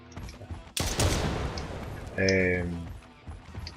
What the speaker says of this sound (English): so if I shoot the enemy, even from distance it looks nice, and up close